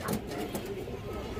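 A female pigeon of a fancy high-flyer breed coos softly in low, throaty bursts close by against a busy background hum.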